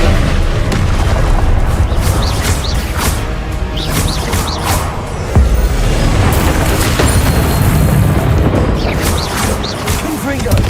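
Repeated booming blasts of the Confringo fire spell in the Hogwarts Legacy video game, loud and continuous with whooshes and crashes layered over game music and effects.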